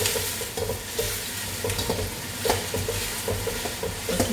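Onions and curry leaves fry in a pan for a curry, giving a close, steady sizzle broken by repeated scraping and stirring strokes.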